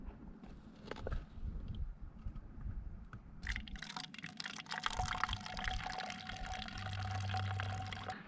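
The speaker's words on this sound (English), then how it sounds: "I'm giving myself a treat, and that is one of my electrolyte drink mixes with filtered glacial water" Filtered glacial water is poured into a container with electrolyte drink mix on a backpacking trip in the Enchantments. A soft trickle and splashing pour starts faintly, then grows fuller and steadier with light drips and handling clicks.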